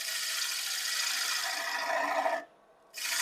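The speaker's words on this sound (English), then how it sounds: "And we'll get out the smaller gouge that we were using earlier." A small gouge cuts a box elder bowl on a wood lathe, giving a steady, close scraping rasp that runs for a couple of seconds, drops to near silence briefly, then resumes.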